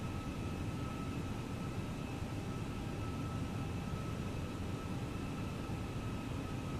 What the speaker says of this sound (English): Here's our takeoff. Beautiful takeoff, you guys.